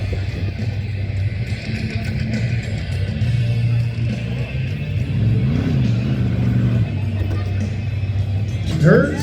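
A 1988 Samurai off-road truck fitted with a 5.7 LS V8 rumbles and revs at a tuff truck competition, a steady loud engine drone that rises and falls, while an announcer talks over it.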